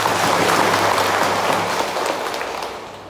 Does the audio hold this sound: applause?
yes